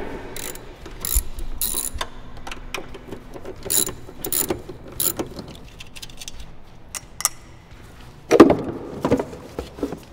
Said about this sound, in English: we're just going to remove these two 10 millimeter bolts right here